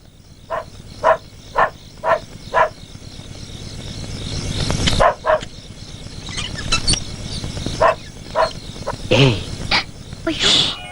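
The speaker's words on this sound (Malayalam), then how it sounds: "ആ കൈസറി എടുത്ത് കുരയ്ക്കുന്നുണ്ട്." A dog barks repeatedly in a Malayalam film scene, several sharp barks spaced through the clip amid night-time ambience, with some voices and clinking sounds around it.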